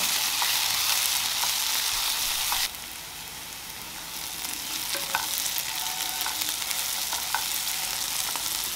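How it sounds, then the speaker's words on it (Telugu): Chopped tomatoes and onions fry in a pan, making a steady close sizzle with occasional soft stirring clicks. The sizzle drops in level partway through and then continues. "ఇవి ఇలా వేగుతూ ఉంటాయి"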